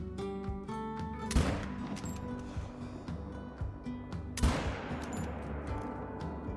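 Two sharp, loud rifle shots, a few seconds apart, ring out during a hunt in the video game Call of the Wild, with a musical game soundtrack playing underneath.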